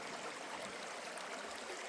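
Creek water runs over rocks in a brief, soft, even wash of broadband flow, faint and steady with no voices.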